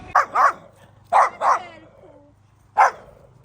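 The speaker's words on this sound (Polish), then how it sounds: "To jest pierwszy pies, który mnie szczeka." A dog barks in three short bursts, two quick barks, another pair, then a single bark after a pause, close and loud with quiet between.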